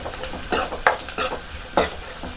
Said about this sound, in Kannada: ಈಗ 1 ಹಿಡಿಯಷ್ಟು ಬೆಳ್ಳುಳ್ಳಿ ಮತ್ತು ಶುಂಠಿಯನ್ನು ಸಣ್ಣಗೆ ಹೆಚ್ಕೊಂಡು ಅದನ್ನು ಎಣ್ಣೆಯಲ್ಲಿ ಹಾಕಿ ಚೆನ್ನಾಗಿ ಫ್ರೈ ಮಾಡ್ಕೋಬೇಕು.